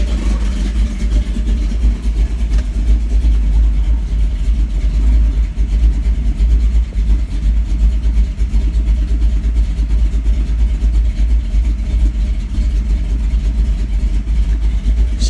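A Blueprint 383 stroker V8 engine, still in break-in, runs loud and steady close by for about fifteen seconds, holding a rough idle with a few mild revs.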